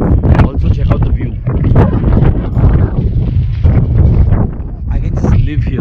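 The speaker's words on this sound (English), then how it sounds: "It's very windy." Steady wind buffets the microphone with low rumbling gusts, while a person talks throughout close by.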